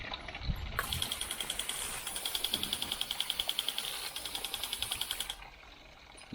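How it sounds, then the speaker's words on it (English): A jet sprinkler bursts on with a pulsing, rhythmic hiss of spraying water for several seconds, then cuts off, leaving quiet outdoor ambience. "you can see that sprays out quite a bit of water."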